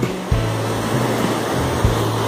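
Water rushes loudly over a concrete wall into a river pool on the Quequén river, a steady roaring wash with a few low thumps, close by and with no voices.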